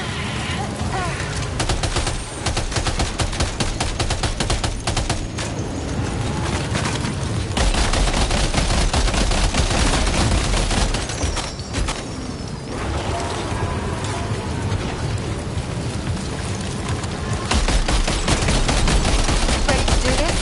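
Dense, continuous video-game gunfire rattles in loud rapid bursts, overlapping automatic fire with heavier booms that fills the whole stretch with only brief lulls.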